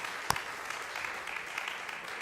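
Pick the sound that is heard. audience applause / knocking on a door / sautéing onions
audience applause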